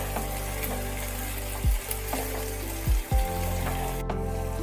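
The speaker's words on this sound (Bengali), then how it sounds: "টমেটো বাটাটা ভালোভাবে পেঁয়াজ আর পটলের সাথে মিশিয়ে দিতে হবে।" Tomato paste being stirred into onion and pointed gourd in a hot pan, with a steady sizzle and two brief scraping strokes of the spatula, no talking.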